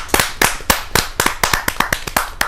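Audience at a Hindi kavi sammelan poetry gathering, clapping in sharp, distinct claps that arrive in an uneven, quickening rhythm, close and loud, with no voices over them.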